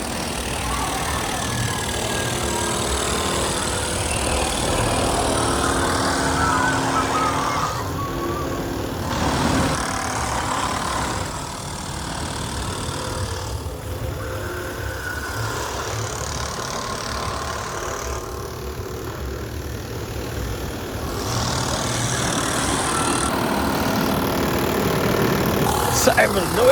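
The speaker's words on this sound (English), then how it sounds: "Sorry for the noise in the background, but they're still doing construction up on the bridge" Construction work on a bridge at a theme park: a steady engine-like rumble and machinery drone continues throughout, with a voice talking over it.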